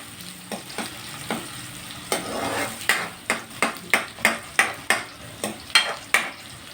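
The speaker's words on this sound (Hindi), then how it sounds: "घी थोड़ा सा गर्म हो और उसमें प्याज डाले उसका अपना एक मज़ा होगा।" Onions frying in warm ghee, a close sizzle broken by a regular series of sharp stirring scrapes and clinks of a spoon against the pan, with no talking.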